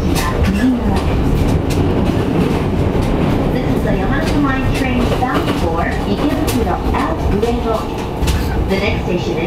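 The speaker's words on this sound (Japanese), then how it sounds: "この電車は山手線外回り池袋上野方面行きです。" A JR Yamanote Line outer-loop train rolls between Shinjuku and Shin-Okubo, with a steady interior rumble and rhythmic wheel clatter heard from inside the car beneath an onboard announcement.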